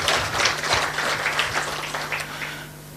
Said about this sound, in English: A clap for her